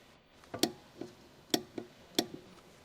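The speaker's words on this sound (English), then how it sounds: "use the 14 mm deep socket and torque wrench to tighten the lower bracket bolt to 43 Newton" A torque wrench clicks while tightening the lower bracket bolt of a Honda Civic coilover, with four sharp ratcheting ticks spaced at an even rhythm, close and clear against a quiet background.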